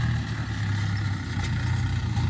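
A DTZ 5404 tractor engine runs steadily in a dusty field while sowing buckwheat and corn with a seed drill, a loud continuous low drone with no pauses.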